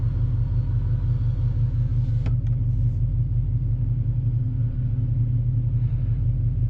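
A Dodge SRT8 Challenger with an SLP Loudmouth exhaust idles nearby, a steady deep low rumble throughout with a faint clink partway.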